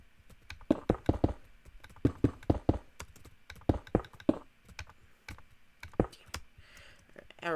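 Clicks on a laptop touchpad come in uneven bursts of sharp, close taps with short pauses between, clear and isolated, without talk.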